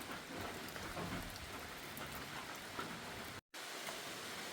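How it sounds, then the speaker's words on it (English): Steady rain falling outdoors on a hiking trail, a dense continuous hiss of drops on surfaces, moderately loud and even throughout, briefly cut by a moment of silence near the end. "Started raining a little heavier"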